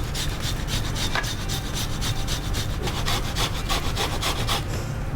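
Fresh frozen ginger rasped against a grater in quick, regular back-and-forth strokes, a close, coarse scraping rhythm that continues steadily throughout.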